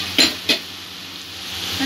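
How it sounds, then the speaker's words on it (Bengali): Spice masala frying in a pan over a low gas flame, with two short scraping stirs near the start over a steady soft sizzle. "মশলাটা কষার সময় গ্যাসের ফ্লেমটা আমি লো করে দিয়েছি।"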